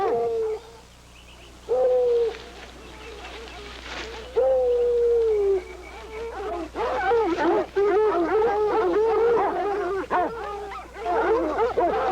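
Hounds bay and howl in long drawn-out cries, several dogs overlapping at moderate distance, outdoors, with short pauses between bursts.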